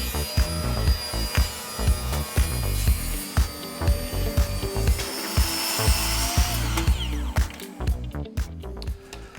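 Maple strips for a mitered frame are cut with a power saw, giving a loud repeated series of short rhythmic cutting strokes close up, with a high motor whine toward the end.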